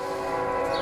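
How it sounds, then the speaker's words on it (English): A train horn blows in a sustained, steady chord of layered tones, fairly loud and unbroken for the whole brief moment, with no speech. "the train was blowing his horn"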